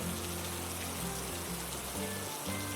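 Steady rain falls as a constant, dense hiss throughout, used as a sound effect in a narrated Korean folk tale, with a low droning hum underneath and no speech.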